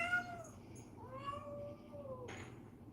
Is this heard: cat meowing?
yes